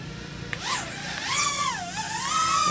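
Master AG-12D drone lifting off and flying at night, a whining motor buzz that rises and dips in pitch as it climbs and manoeuvres, moderately close with no talk.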